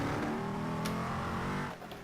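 A Hennessey Venom GT sports car engine in the racing game Assetto Corsa roars steadily with layered harmonics, holding a high rev before easing off near the end.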